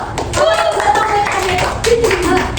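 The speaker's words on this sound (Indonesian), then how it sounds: "Tepuk tangan dulu" Schoolchildren clap together in an elementary classroom, a brief burst of hand claps mixed with children's voices and chatter throughout.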